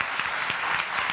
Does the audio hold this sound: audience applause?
yes